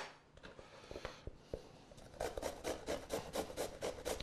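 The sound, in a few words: grating sweet potato with the skin on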